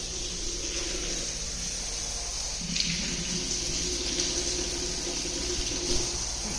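Hot water runs steadily from a tap in a newly built house, a continuous hiss and splash holding level for several seconds with no talk over it.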